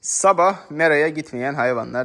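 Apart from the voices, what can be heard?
No everyday noises stand out.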